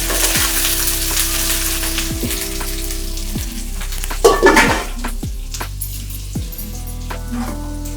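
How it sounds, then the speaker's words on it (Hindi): Chicken coated in cashew paste sizzles and crackles loudly in hot oil in a pan. Repeated metal utensil knocks and scrapes sound over the steady frying. "ये काजू पेस्ट चिकेन ले देदेली"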